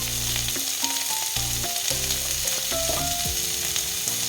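Steady sizzling of vegetables with potatoes, salt and turmeric frying in hot oil, loud and close, with occasional stirring scrapes and no voices.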